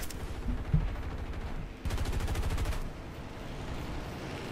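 A P-47 fighter's machine guns fire in War Thunder during an air battle: a burst of rapid, evenly spaced shots lasting about a second over steady engine drone, loud and close.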